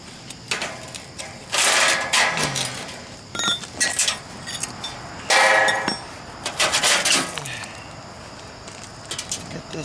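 Metal fasteners on a chimney crown are loosened with a wrench, making bursts of close, loud ratcheting clicks and metallic scraping in irregular spurts separated by short pauses, with occasional faint clinks.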